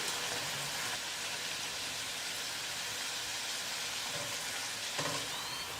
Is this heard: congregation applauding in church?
no